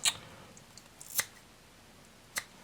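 Twine for tying a Christmas tree snipped to length: three crisp, close cuts spaced about a second apart, each a short sharp snip in a quiet room.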